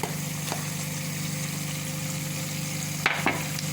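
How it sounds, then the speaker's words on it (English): Onions sizzle steadily in a hot pan, with a few sharp scraping clicks from stirring near the end. "And I'm frying the onion now."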